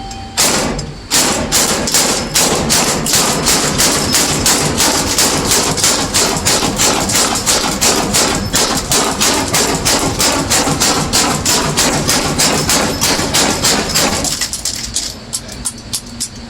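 A hand-cranked Gatling gun, 160-year-old technology, fires a rapid, evenly spaced string of loud, close shots for about thirteen seconds, then the bursts thin out and stop while the crank winds down.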